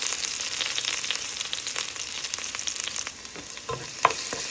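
Ginger and garlic fry in well-heated oil for a Sri Lankan chicken curry, giving a steady close crackling sizzle with scattered sharper pops and a few stirring clinks near the end.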